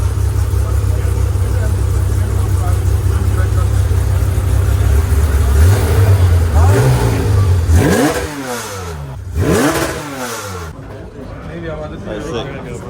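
Porsche 991 GT3 RS engine revving hard, a sustained high drone that climbs in pitch and then breaks into sharp rising and falling revs before it drops away, with voices talking over it.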